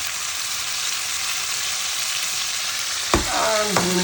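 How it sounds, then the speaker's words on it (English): Cottage pie filling sizzles steadily and loudly in a hot frying pan, a dense continuous hiss, with a couple of scraping stirs near the end. "Let's get this fried up."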